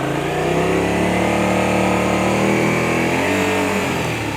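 Motorcycle engine revving loud and close through a slow U-turn, clutch and rear brake in play, the pitch rising and falling steadily over several seconds with no talk.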